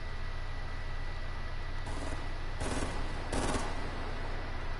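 Three quick bursts of gunfire in a game, the first faint and the last two louder, each a short crackling volley over a steady background hum.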